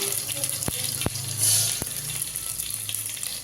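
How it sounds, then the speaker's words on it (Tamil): Mustard seeds hit hot oil for a snake gourd stir-fry, raising a soft hissing sizzle with a few sharp pops and crackles, moderately close and steady for a few seconds. "இப்போ கடுகு கொஞ்சம் போட்டுக்கலாம்"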